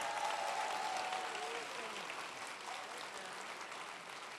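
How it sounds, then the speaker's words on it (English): An audience applauds a new doctor at a college nursing pinning ceremony. The dense clapping is loudest at the start and eases off gradually, with faint crowd murmur and a brief voice blended in. "Let's give her a round of applause."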